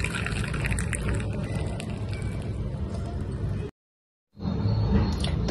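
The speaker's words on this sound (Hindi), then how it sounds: "आपको चाय छन्नी की मदद से काफी बढ़िया से जो है इस पानी को छान लेना है" Water poured through a tea strainer runs in a steady, close gushing stream, stops abruptly for a brief silence, then resumes and pours on at the same level.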